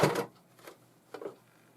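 A twin needle sewing machine stitching through several heavy layers of fabric, giving three brief clunking mechanical bursts, the first loudest, separated by short quiet gaps.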